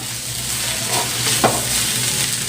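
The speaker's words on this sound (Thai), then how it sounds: "ผัดไข่เนี่ยครับ ให้เข้าอะไรทั่วเลยนะครับ โดยใช้ไฟปานกลางไปเรื่อยนะครับ" Egg stir-fried over medium heat for salted fish fried rice gives a steady, close sizzle with a faint scrape partway through. Continuous and fairly loud, with no voices.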